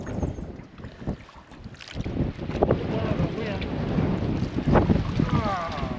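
Gusty wind buffeting the microphone while paddling a canoe on a lake in the Canadian wilderness, uneven rumbling bursts with faint water sounds and a voice partly mixed in.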